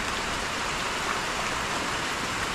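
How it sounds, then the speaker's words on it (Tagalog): Rain falls steadily outdoors during a sudden flood, a loud, dense, even wash of droplets with no talking. "Hindi po natigil ang ulan ay."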